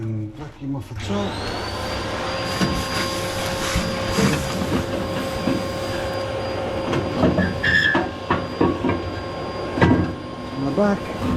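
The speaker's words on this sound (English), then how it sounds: "Vacuum off the top." A vacuum cleaner whines steadily up close while cleaning the top of a Norreskoven MK2 wood stove, with the nozzle scraping and rattling over the surface and a voice speaking over it.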